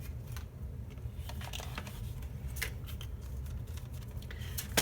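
Scissors cut a chunk of scrapbook material, making soft, repeated snipping and rustling close by over a steady low background hum.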